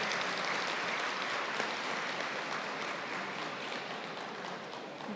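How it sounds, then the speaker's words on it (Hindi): Sustained audience applause at a spiritual gathering, a dense wash of clapping at steady loudness that fades slightly toward the end, with no talk over it. "हम उनके लिए ताली बजाएंगे।"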